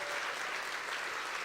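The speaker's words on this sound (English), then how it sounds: "Guys, let's clap it up for these people." Brief burst of audience applause at a startup-week keynote in Denver, a dense, even wash of many hands clapping throughout.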